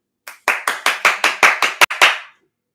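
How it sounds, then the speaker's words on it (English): A crowd claps in a fast, even rhythm, about ten sharp claps in quick succession, loud and close, with no talk. "Can we get a McDermott fast clap?"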